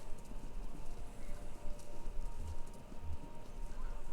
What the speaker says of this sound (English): Sounds like horses. Horses running a race.